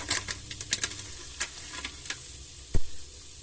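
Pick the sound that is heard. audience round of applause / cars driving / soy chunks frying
soy chunks frying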